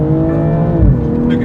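A car drives along with a steady engine drone and a brief shift in pitch partway through, loud and close, with a voice faintly present.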